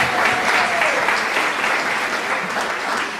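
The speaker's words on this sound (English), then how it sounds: "Let's give another round of applause for Alex." Applause from a seated audience at a senior community's variety show after a singer-guitarist performs, a dense, fairly close wash of clapping that holds steady and tapers slightly toward the end.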